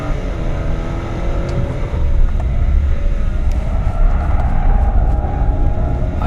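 2016 BMW G11 750i 7 Series with xDrive and Autobahn Package, driven hard up a steep hill. Loud, close V8 engine roar sustains under heavy throttle, strong and continuous with shifting tone and no talking.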